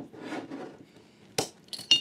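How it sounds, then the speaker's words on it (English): Mead being poured into glasses, a soft liquid trickle followed by a few bright glassy clinks, close and quiet with no talk. "pour some into each glass."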